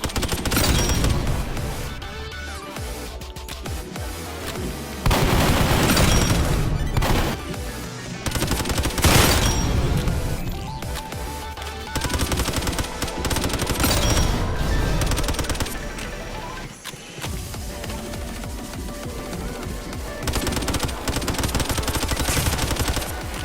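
An assault rifle with an SMG core fires in the Roblox Gun Game, loud rapid bursts of automatic gunfire repeating over the whole stretch with short pauses between volleys.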